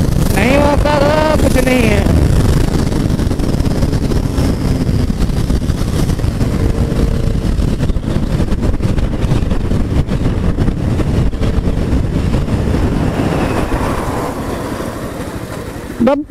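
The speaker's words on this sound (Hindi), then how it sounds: "ऐसा लग रहा है सुपर बाइक हो रही है, सीधा खींचते हुए चली जा रही है।" A powerful motorcycle engine roars loudly and steadily, revving hard as it accelerates past in a highway race between a Honda CB300R and a Suzuki Gixxer SF250, with a brief voice near the start.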